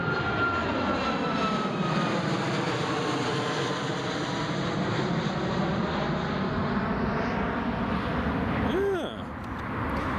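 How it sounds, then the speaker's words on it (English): A jet engine at Newcastle International Airport gives a loud, steady roar that holds almost the whole time and drops away near the end. "Oh, there is another British Airways on remote."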